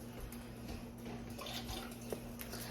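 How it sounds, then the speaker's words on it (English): Water is poured out of a pressure canner, giving a steady, soft, continuous splashing rush close by with no speech. "I'm going to pour out this water from my pressure canner"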